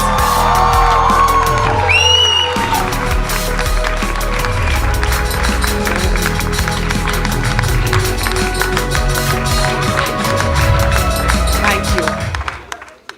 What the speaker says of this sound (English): I want to hear the hall burst with applause